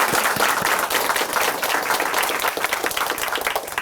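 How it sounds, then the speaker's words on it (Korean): A studio audience on a Christian television show applauds a guest, a dense burst of many hands clapping continuously at close range that holds steady throughout. "김영준 형제님께 다시 한번 박수 부탁드립니다"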